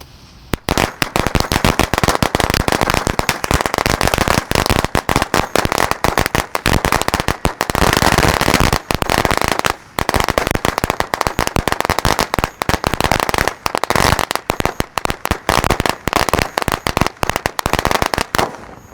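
A 2.5-meter string of Betawi firecrackers explodes outdoors in a loud, rapid, continuous crackle of bangs lasting nearly twenty seconds, with a brief pause midway.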